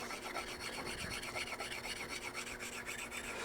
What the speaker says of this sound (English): not grinding my gouges, but honing them